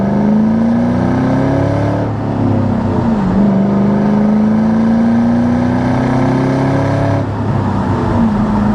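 A 2004 Ford Mustang Mach 1 on its stock exhaust accelerates through the gears, its engine note climbing steadily, dipping briefly at each shift before rising again; a smooth, fairly mild drone heard from inside the car.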